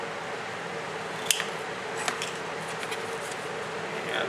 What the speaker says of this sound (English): We're going to cut this card down a little bit more.